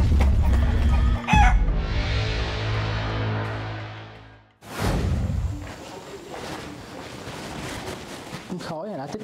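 A costumed player in a Halloween hide-and-seek game in an abandoned house imitates a chicken, with loud rooster-like crowing and clucking calls, a brief break, then more rough vocal noise and movement.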